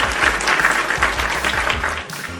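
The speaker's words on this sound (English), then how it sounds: "round of applause for both of you dudes" Applause fills a wrestling podcast studio as hosts and guests clap together, a dense steady patter of hands that fades slightly toward the end.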